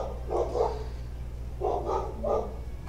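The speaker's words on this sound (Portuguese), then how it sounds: "Meu cachorro dando oi pra vocês aí." A pet dog barks in three quick bursts of two or three yaps each, close and fairly loud over a steady low hum, with no talking.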